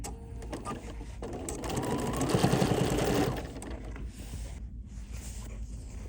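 An embroidery machine stitches sashing onto a quilt row, its motor whirring steadily as the needle runs, rising to a fuller hum in the middle before settling back to a lower mechanical drone.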